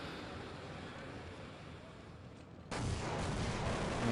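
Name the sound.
grenades exploding in Counter-Strike 1.6 video game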